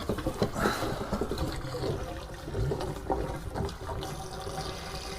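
Water runs from a hose into a camper van's fresh-water tank during de-winterizing, a steady rushing, gurgling flow that stays fairly loud and close throughout, with no talking.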